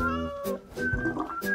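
A cat meows repeatedly and close by, with drawn-out tonal calls broken by short pauses.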